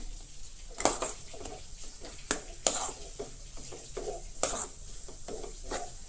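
A vegetable mixture stirred in a pan for vada pav filling, with scraping strokes and sharp spoon clinks recurring at irregular intervals over a soft sizzle.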